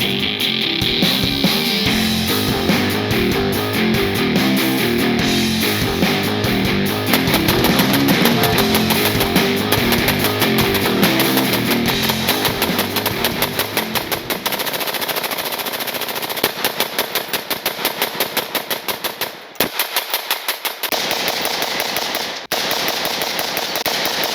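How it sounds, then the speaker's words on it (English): A full-auto rifle fires through a SIG SLX suppressor during a burn-down, long continuous strings of rapid muffled shots, loud and close, with a brief pause near the end before short final bursts. "Because this can is full auto rated, we're going to full auto rate it. Here's your burn down."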